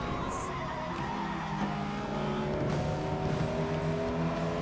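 Race cars roaring through a FlatOut Ultimate Carnage video game race, engines droning steadily with layered tones and a brief tire screech near the start, continuous and fairly loud with no talking.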